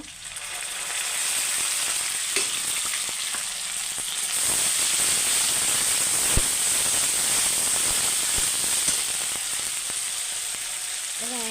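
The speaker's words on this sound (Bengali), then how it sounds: "এখন আমি এখানে পেঁয়াজ আদা রসুন লঙ্কা আর টমেটো বাটা দিয়ে দেব" Steady loud sizzle of onion, ginger, garlic, green chili and tomato paste frying in hot oil for an egg paneer dish, a dense continuous hiss with occasional pops and stirring scrapes, close up.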